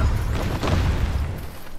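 Explosion in the battle royale game Farlight 84, a dense low rumbling boom with a sharp burst near the start that stays loud and gradually fades over about two seconds, with no talk.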